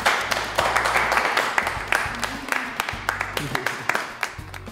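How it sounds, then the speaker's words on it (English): A small group at a commercial photographer's shoot celebration claps in scattered, uneven bursts, individual hand claps standing out sharply while voices talk and laugh over them. "Round of applause."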